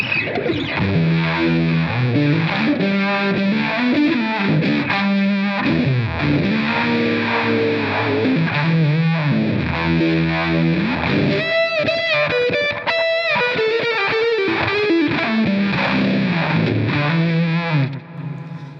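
An electric guitar through a fuzz pedal turned all the way up plays a sustained, heavily distorted line of bending notes and chords, loud and continuous throughout.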